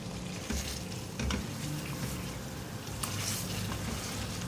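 Spices for chicken ginger, including turmeric and red chilli powder, frying in hot oil: a continuous close sizzle with scraping stir strokes throughout, no voices.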